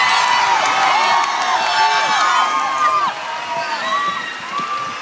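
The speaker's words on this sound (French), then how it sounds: "Sous les applaudissements." Television studio audience at Star Academy in 2006, cheering loudly with high-pitched screams and whoops over a continuous crowd roar, sustained and close throughout.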